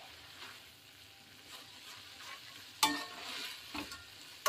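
Fried vegetables for a vegetarian Chinese dish are stirred in a hot pan: a soft continuous sizzle with a couple of louder spatula clatters near the end, close up and without voices.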